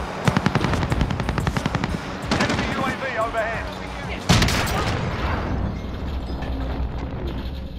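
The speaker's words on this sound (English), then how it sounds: "Taking fire over here." Rapid bursts of automatic gunfire crackle through a Call of Duty: Modern Warfare match, dense at first, then a sharp blast and scattered shots over lingering battle noise, with players' voices mixed in.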